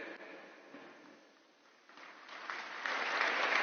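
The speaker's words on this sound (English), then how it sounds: "Please put your hands together and give a big round of applause" Audience applause at the close of an address by a Seventh-day Adventist church leader calling for peace and one humanity, a steady broadband wash of clapping that dips midway then swells louder and denser toward the end, with no talk over it.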